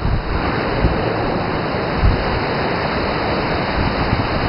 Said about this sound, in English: Actually, this is a very big waterfall.